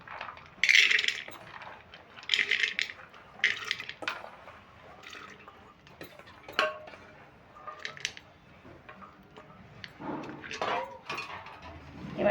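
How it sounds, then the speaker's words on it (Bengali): Chana dal poured into a metal pressure cooker, heard as several bursts of rattling, clinking grains hitting metal, separated by pauses, close and fairly quiet. "এবার আমি একটা কুকার নিয়েছি এই কুকারে এবার ছোলার ডালটা আমি দিয়ে দেবো"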